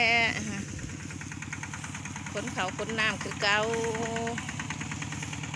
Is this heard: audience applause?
no